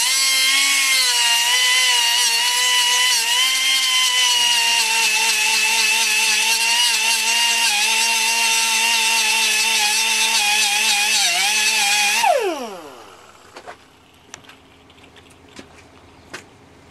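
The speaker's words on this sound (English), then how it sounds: "the best thing to use for grinding is a cutoff wheel is what you use in an air die grinder" An air die grinder with a cutoff wheel grinding metal, a loud steady high whine held for about twelve seconds before winding down and stopping, followed by faint clicks and handling noises.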